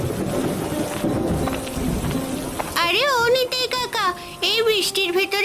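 Steady rain and thunder from an animated Bengali cartoon storm, a dense downpour rumbling for a few seconds before a voice begins speaking over the continuing rain.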